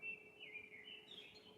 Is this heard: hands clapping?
no